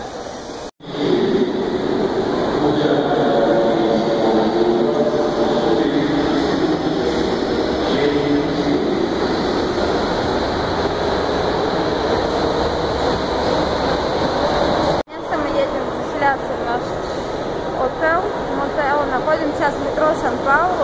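A São Paulo metro train runs with a loud, continuous rolling roar and rattling wheels, heard from inside the industrial-style carriage, with two sharp jolts and voices over the noise.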